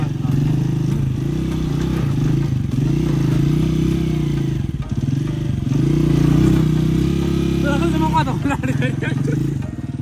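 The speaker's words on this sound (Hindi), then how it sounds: "बहुत खराब रास्ते से बाइक ऊपर लेके आ रहा है।" A motorbike labours up a very rough village track, its engine rumbling loud and close throughout with rattles and clatter, while people talk over it.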